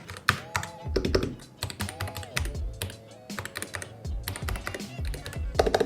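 Typing on an Aula Win 60 HE Max keyboard with magnetic switches: close, rapid bursts of deep, thocky keystrokes in irregular clusters, with a few short pauses between runs.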